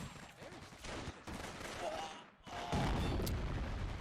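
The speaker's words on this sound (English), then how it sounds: "We have our mortar here, and it is hitting them." Mortar fire and scattered gunfire burst in a World War II strategy game battle at Carentan, 1944, with dense rattling shots and booms piling up over a low rumble.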